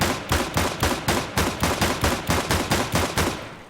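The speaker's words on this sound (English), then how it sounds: "I'm not really a fan of the new dually sound" Dual pistols firing in CS:GO, a steady run of about fourteen sharp, close shots evenly spaced roughly a quarter second apart, each crack loud and punchy, with no voices.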